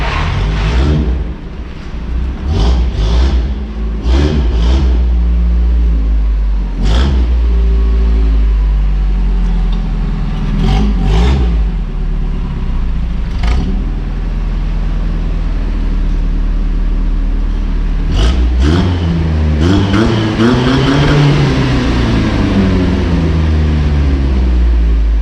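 A truck engine running as the vehicle is pulled into a junkyard building, a loud steady low rumble with a few sharp knocks and a rising rev toward the end.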